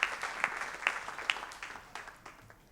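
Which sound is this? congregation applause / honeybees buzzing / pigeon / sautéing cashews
congregation applause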